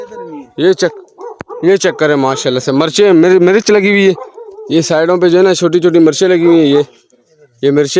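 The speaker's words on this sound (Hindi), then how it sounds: "और नीचे जो है ना कुत्ता भी भौंक रहा है" A dog barks somewhere below a village farm field, short yips and barks mixed in under someone talking loudly close by, with birds calling in the background.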